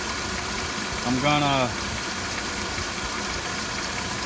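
A Mercedes W211 E350 idles smoothly after its intake has been removed and refitted, a steady close hum with no misfires, briefly interrupted by a short spoken word.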